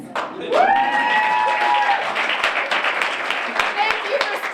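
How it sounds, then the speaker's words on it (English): A crowd applauds at a film screening of American Mary with the filmmakers present, making a steady wash of clapping. A loud voice cries out over it near the start, and scattered claps continue to the end. "Thank you for still applauding."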